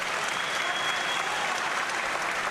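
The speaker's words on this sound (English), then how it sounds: "you can hear the response of the crowd" A crowd at a Medusa women's combat fight applauds steadily, a dense, continuous clapping wash at even loudness throughout.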